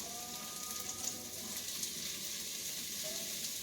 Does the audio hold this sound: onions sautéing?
yes